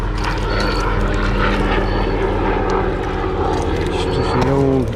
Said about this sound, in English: It's just the old helicopter going by.